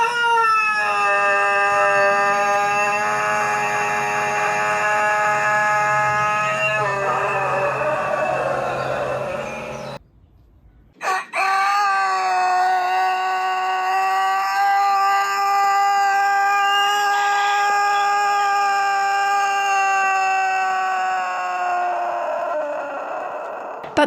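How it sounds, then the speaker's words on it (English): Two long, drawn-out rooster crows from a breed selected for very long-lasting crowing, each held loud and steady for many seconds, with a brief silent gap between them. "Some breeds have been specially selected to have very long-lasting crows."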